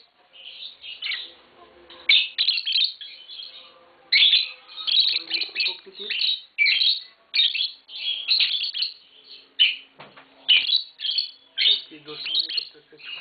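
A pair of green Fischer's lovebirds chirp and squawk up close in sharp, shrill bursts, repeated in rapid uneven clusters with short pauses between.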